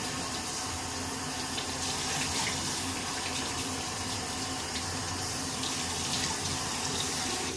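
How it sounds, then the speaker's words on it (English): Tap water runs steadily onto a shaving brush at a sink, a constant close splashing rush with no pauses or voices. "A little bit of water on the brush."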